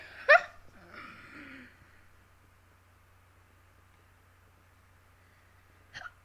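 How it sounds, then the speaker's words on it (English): A person's hiccups sound indoors, with a sharp, loud hiccup at the start, a breathy follow-up, then quiet, and a second brief hiccup at the very end. "I guess we're gonna have to deal with this video with me having hiccups."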